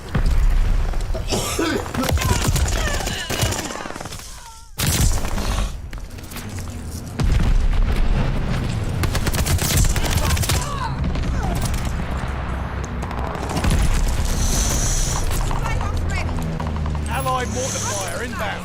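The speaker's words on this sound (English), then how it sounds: "Allies called a bombing run." Bombing-run explosions in a multiplayer war video game: loud, dense booms and crackling barrages that roll on almost continuously, with a brief lull, while voices talk over the chaos.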